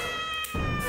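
A cat meows while having its long claws trimmed indoors, a single short cry up close that dips briefly and then swells again, loud and alone with no talk.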